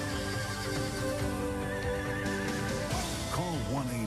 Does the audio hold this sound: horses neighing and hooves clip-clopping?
yes